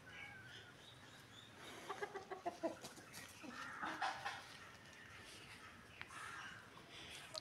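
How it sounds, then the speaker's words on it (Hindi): Hens and chicks cluck and peep softly in a backyard coop with fruit trees, scattered short calls rising and falling over a quiet outdoor background. "खाना खा के बैठे हुए आराम से चहलकदमी हो रही है चूज़ों की, मुर्गियों की।"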